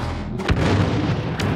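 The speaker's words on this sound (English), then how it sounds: "just throw my thermal imploder and then you can watch the kill feed" A thermal imploder grenade detonating in Star Wars Battlefront, a heavy booming blast with low rumble amid dense battle noise, followed by further thumps and a sharp report near the end.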